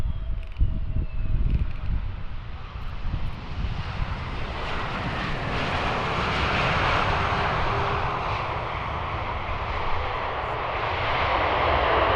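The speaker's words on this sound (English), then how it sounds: "the F-15, he is taxied, waiting to cross the runway" An F-15 fighter jet taxis at the Farnborough air show, its engine whine building into a broad, steady roar that swells louder and holds.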